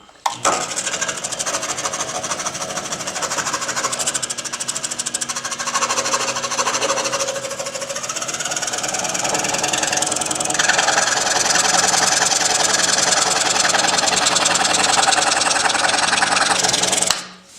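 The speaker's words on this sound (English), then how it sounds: "shut off the machine, then make my workpiece turn and then start it up again" A power saw machine cuts steadily through a thin wooden bookmark, a loud continuous buzzing rasp that runs unbroken for most of the clip, its pitch shifting slightly as the cut progresses, with no talking.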